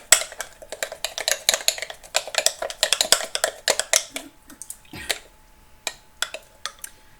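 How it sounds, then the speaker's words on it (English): A spoon scrapes and taps against a bowl as thick homemade sourdough starter is stirred, a quick irregular run of close clinks and knocks that thins out toward the end, with no talk. "Give it a good stir."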